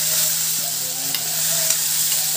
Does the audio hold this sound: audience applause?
no